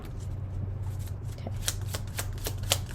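Tarot cards being gathered and shuffled by hand during a reading, giving a rapid run of crisp, close riffling snaps over a low steady hum, with no talking.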